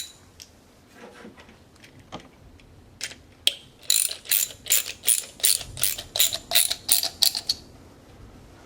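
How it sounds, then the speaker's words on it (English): A wrench ratchets a nylock nut tight on a yarn guide assembly, a few scattered clicks at first, then a quick, evenly spaced run of about a dozen sharp metallic clicks, close and clear. "put a nylock nut on there. I've got to get the wrench for that."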